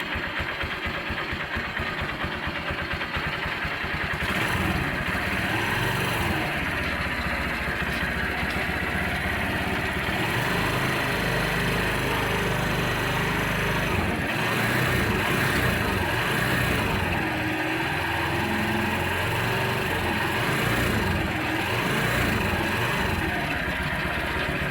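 A Kawasaki Barako motorcycle engine, freshly serviced with an oil change, runs at a steady, loud idle with a continuous low throb and slight knocking vibration throughout.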